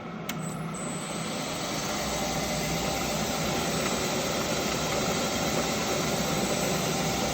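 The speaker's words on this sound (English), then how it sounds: "I'm just throwing them in the lathe, spinning them" Metal parts spin in a lathe during a straightness check for a Honda engine swap into a Porsche 911, giving a steady, loud machine drone that runs evenly throughout.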